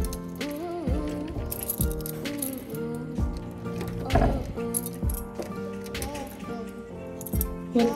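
Keys clink and jangle while someone struggles to pull a key out of a lock in a house being moved into, with irregular metallic taps over a steady tonal background hum.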